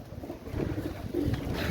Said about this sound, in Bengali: এক জোড়া তুলো কবুতর